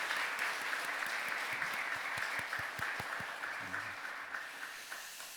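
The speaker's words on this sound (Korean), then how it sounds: "우리 베들레헴 우리 찬양대 우리 박수로 한번 격려했으면 좋겠습니다." Church congregation applauding the choir after a Sunday worship service, a dense and fairly loud round of clapping that gradually thins and fades out over several seconds.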